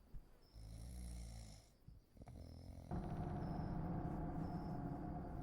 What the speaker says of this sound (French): Et j'ai l'impression qu'il me ronfle dans les oreilles